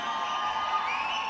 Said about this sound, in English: I can hear your applause when they shout your name.